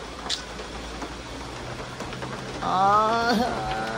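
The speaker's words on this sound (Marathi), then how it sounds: "परत पाऊस आला" Rain falls steadily outdoors at night, an even wash of patter throughout, and a voice rises over it near the end.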